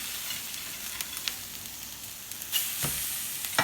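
Tuna steaks crackle and sizzle on a hot griddle with a steady close hiss, a few sharper pops and a brief louder flare near the end.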